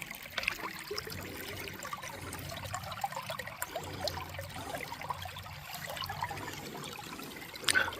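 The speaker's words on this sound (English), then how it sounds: "Some good water flow right there." Water trickling and flowing in a small stream along the Florida Trail, a faint continuous gurgle with light splashy detail, heard alone without talk.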